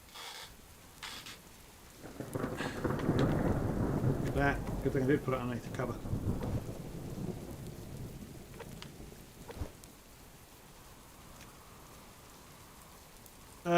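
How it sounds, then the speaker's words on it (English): Rain patters steadily with rumbling thunder and some wind in a survival video game, a fairly close, broad wash that swells and then eases, while someone talks over it. "That sounds like rain."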